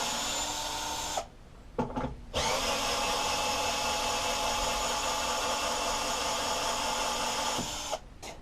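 A powered screwdriver with an extension bar spins on a screw in a McCulloch lawnmower cover, a loud continuous whine running for several seconds after two short bursts, with brief quiet gaps and no voices.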